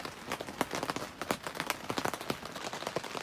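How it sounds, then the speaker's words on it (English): Heavy rain pours down steadily beside a garden shed, a dense wash of drops with brief sharper splashes rising and falling throughout, close by and without any voices. "not while it's bucketing it down"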